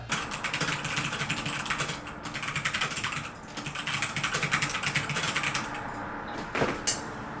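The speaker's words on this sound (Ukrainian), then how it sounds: "вже без настрою, я продовжив друкувати" Fast typing on a computer keyboard: a dense, rapid clatter of keystrokes at roughly 100 words per minute, close and continuous, with brief pauses and a low engine-like hum beneath.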